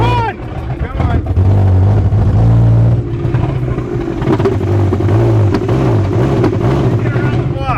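A car engine running on straight moonshine revs loudly and close, its pitch surging, dropping and wavering unevenly as it strains to pull away, while excited voices call out over the engine.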